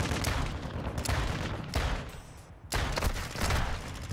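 Pistol gunshots in a video game, a steady run of loud, close, rapid reports with brief pauses between the volleys.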